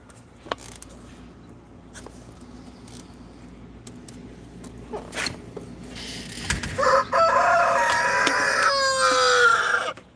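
A pet rooster crows loud and close, a long rising-and-falling cock-a-doodle-doo that fills the last few seconds after quieter rustling and a few soft clucks.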